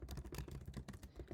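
Quiet, rapid keystrokes tap on a computer keyboard in an uneven rhythm, close up and faint.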